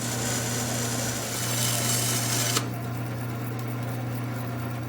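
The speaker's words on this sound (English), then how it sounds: "Unfortunately, the blade was drifting too badly, so I had to abandon the fence and just cut it freehand." A saw blade cuts freehand through a wood panel for a console table, a steady high whine over a low motor hum that drops off sharply halfway through, leaving the motor running.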